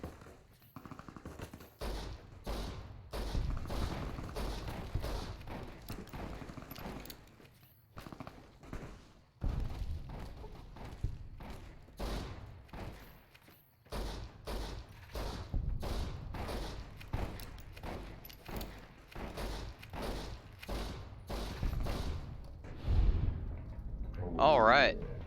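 Gunfire from a battle in Fallout New Vegas: repeated sharp shots crack at an irregular, steady pace throughout, fairly quiet and distant-sounding, with a voice talking over them.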